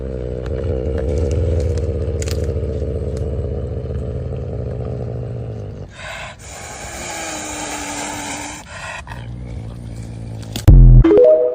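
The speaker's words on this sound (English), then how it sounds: "It sounds like an engine." A steady low mechanical drone rumbles for several seconds, then cuts to a higher whirring hum before a sharp clatter near the end.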